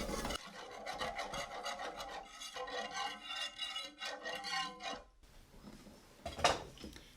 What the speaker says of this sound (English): we're going to whisk this until it's smooth